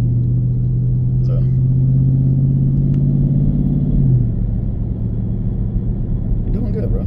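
A Dodge Scat Pack muscle car driven by a 15-year-old, its engine holding a steady, loud low rumble with a rising tone that drops away near the four-second mark, then continuing to drone; voices talk faintly over it.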